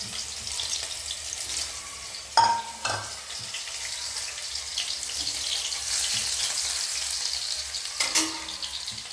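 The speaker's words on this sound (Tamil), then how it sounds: "கடுகு பொரிஞ்சிடுச்சு. இஞ்சி பூண்டு" Ginger and garlic frying in a pan with mustard seeds that have just spluttered, a steady close sizzle with a couple of sharp clinks from a utensil against the pan.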